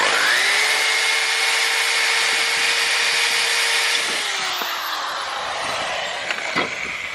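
A drill bores into a rounded screw that holds the brake disc to the hub of a BMW, a steady high whine that holds for several seconds, then drops away into lighter grinding and scraping as the bit bites.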